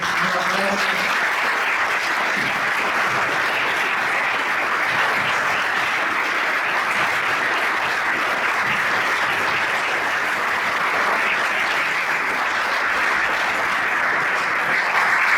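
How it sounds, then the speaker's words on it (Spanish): Sustained, dense applause from an audience at a book presentation, loud and even throughout with no pauses. "Este aplauso es para ustedes, para la memoria de vuestro padre"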